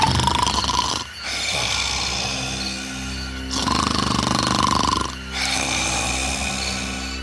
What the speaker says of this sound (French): le ronflement vient de l'intérieur